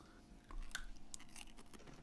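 Someone crunching on a snack with dip, a run of quiet close chewing crunches over faint background noise.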